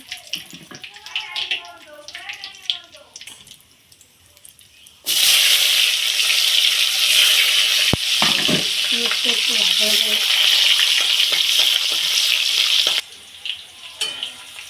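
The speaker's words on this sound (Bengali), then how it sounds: "ওখানে দেখো আলুও কিন্তু ভাজা হচ্ছে মাংসের জন্য" Potatoes and whole garam masala frying in oil for a meat dish, a loud sustained sizzle that bursts in suddenly and runs for several seconds, with people talking before and after it.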